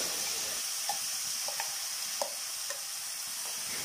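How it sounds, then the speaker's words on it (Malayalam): Ground banana paste cooks in ghee in a pan, a soft continuous sizzle with scattered clinks and scrapes of stirring spread through, fairly quiet and close, no voices. "നെയ്യ് പാത്രത്തിൻ്റെ എല്ലാ ഭാഗത്തേക്കും ഒന്ന് ചുറ്റിച്ചു കൊടുത്ത ശേഷം ഇതിലേക്ക് അരച്ചു വച്ചിരിക്കുന്ന പഴം ഒഴിച്ചു കൊടുക്കുക"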